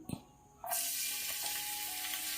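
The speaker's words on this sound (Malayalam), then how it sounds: "ഒരു ടേബിൾ സ്പൂണോളം വെളുത്തുള്ളി ചെറുതായിട്ട് അരിഞ്ഞത് ചേർത്ത് കൊടുത്തിട്ടുണ്ട്" Chopped garlic drops into hot coconut oil in a pan and bursts into a loud, steady sizzle right after a couple of soft taps, close and continuous to the end.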